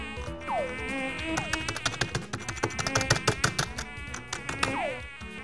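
Mosquitoes buzz steadily in a video game, a dense high whine layered with rapid clicking and tapping, with swooping tonal effects rising and falling at a few points, close and loud throughout.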